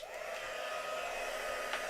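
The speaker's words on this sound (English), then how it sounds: "Let me just heat emboss this again." A heat gun blows a steady, continuous roar while heat embossing powder on a handmade card, holding an even level throughout with no talking.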